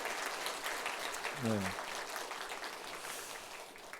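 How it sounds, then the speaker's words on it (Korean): A church congregation applauds the Zion choir with sustained, moderately distant clapping that fills the hall, and a voice briefly speaks over it. "우리 시온 찬양대 박수하러 한번 격려하도록 하겠습니다"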